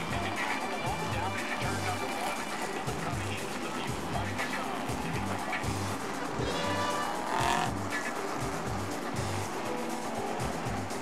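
SK modified race cars circle the track at Stafford Speedway, a continuous layered engine drone that swells slightly as they pass, while an announcer talks over the PA.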